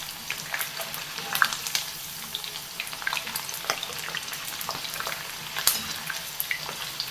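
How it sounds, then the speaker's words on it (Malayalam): Thin tapioca slices deep-fry in hot oil at home, giving a steady close bubbling sizzle with scattered crackles and pops. "കനം കുറച്ചരിഞ്ഞതുകൊണ്ട് പെട്ടെന്ന് ഫ്രൈ ആയി കിട്ടുന്നുണ്ട്"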